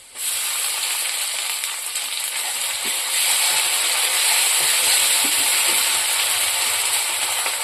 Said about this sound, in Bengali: পেঁয়াজটা লাল লাল হয়ে গেছে ভাজা, এখন মশলাটা দিয়ে দেবো